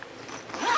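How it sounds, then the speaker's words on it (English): A zipper on the side of a 2021 Pleasure Way Plateau TS camper van cover is pulled down in a single short, close rasp that rises toward the end. "It zips down the sides"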